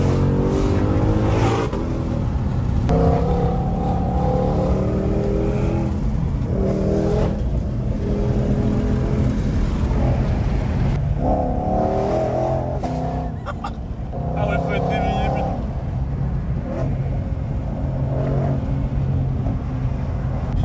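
A Ford Mustang Shelby GT500 engine drones and revs continuously from inside the car while driving, rising and falling with acceleration, with brief voices now and then.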